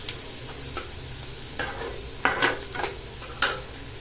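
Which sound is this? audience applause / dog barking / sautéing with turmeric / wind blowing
sautéing with turmeric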